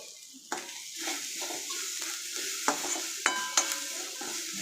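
A noodle mix with turmeric, chili powder and Maggi masala being sautéed in a pan, giving a soft continuous sizzle broken by a few sharp scrapes and clinks of a spoon against the pan, heard up close.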